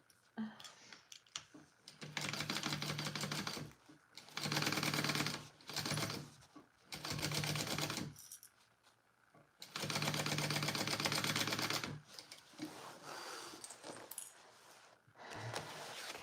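A sewing machine runs in several long bursts with short pauses while it stitches fabric lining, each burst a steady rapid chatter, close and fairly quiet, with no talk.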